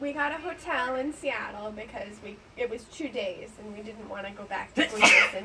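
A single sharp sneeze bursts out near the end, following a stretch of close conversational speech from people talking indoors.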